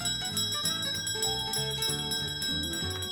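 A small bell rings in a bright, continuous tinkling pattern with a repeating tune, clear and close, with no talking.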